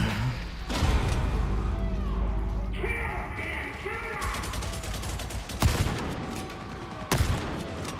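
Shotgun fire in Vermintide, a few loud booming blasts spread across a busy stretch of game noise with clanking mechanisms and scattered voices.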